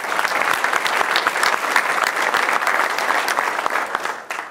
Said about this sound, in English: let's give a nice round of applause for all these investors